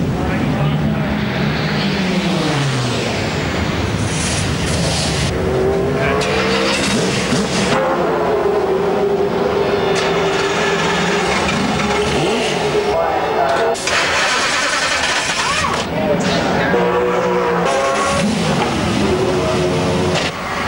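Race car engines at the 1997 Bathurst 1000 touring car race roar into life and rev hard, loud and continuous across the field, with a voice speaking over them.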